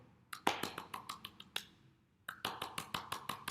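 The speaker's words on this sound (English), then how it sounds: "if you want to clap, you can do it this way" Hand claps demonstrated during a storytelling class: a brisk run of sharp, close claps, a short pause, then another steady series of crisp claps, with no talking.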